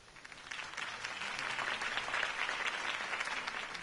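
A crowd applauds steadily in a Batman video game, a dense wash of clapping that swells and holds throughout.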